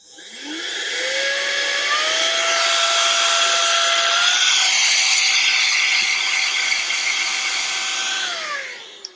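A Kairiyard rechargeable compressed air duster blows dust in low mode, spinning up to a steady loud whirring whoosh with a high-pitched whine that steps up in pitch partway through, then winds down after about eight seconds.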